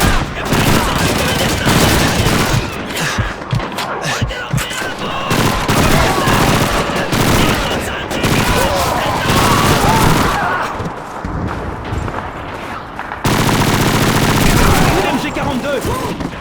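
Sustained automatic fire from an MG42 machine gun in the World War II shooter Call of Duty 2, loud and dense with bursts layered over battle noise and shouted voices throughout.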